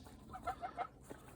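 Geese give a few faint, short honking calls in quick succession, distant and soft against a quiet outdoor background.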